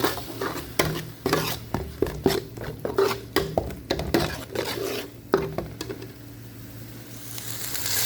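Garlic, ginger and green chili fry in a pan while a spoon stirs and scrapes repeatedly against the metal, giving a rhythmic series of clinks over a soft sizzle.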